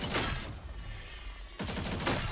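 Rapid weapon fire from Ultron's basic attack in the Marvel Rivals video game, dense bursts of shots close and loud, a brief lull, then another burst of rapid firing with punchy impacts.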